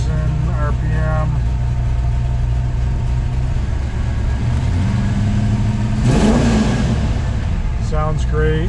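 A 1971 Dodge Challenger R/T engine idles steadily at about 1,000 RPM, a low continuous rumble running underneath someone talking through most of the clip.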